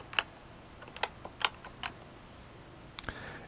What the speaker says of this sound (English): Now we're going to go ahead and press the keys in sequence or order.